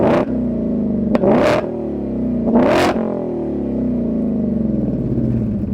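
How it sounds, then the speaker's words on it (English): Shelby GT350 exhaust revved twice in sharp, loud rising bursts that fall back to a deep burbling idle in between, heard up close with no talking. "I think you guys would like an exhaust clip."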